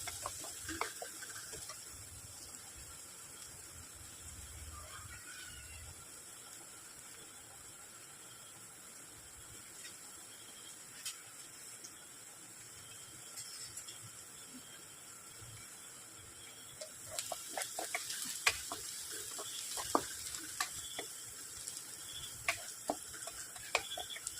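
Green chillies and onion sautéing in a pan: a faint steady hiss and sizzle with occasional light ticks and stirring clicks, growing busier and louder toward the end, with no talk.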